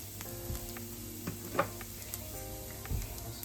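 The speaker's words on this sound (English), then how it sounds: "I'm gonna put some chopped garlic to fry." Chopped garlic frying in hot oil gives a soft, steady sizzle with a few light clicks and stirring touches against the pan. The sound is fairly faint and no one speaks.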